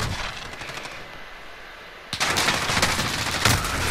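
Gunfire in Call of Duty Modern Warfare team deathmatch on the Piccadilly map: rapid automatic bursts, first a lighter stretch of shots, then a sudden loud, dense rattle of fire from about halfway on, with no talking.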